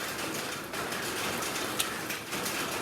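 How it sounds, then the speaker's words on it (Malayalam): Steady rain hisses and patters evenly throughout, soft and continuous, with no voices. "മഴയുണ്ട്."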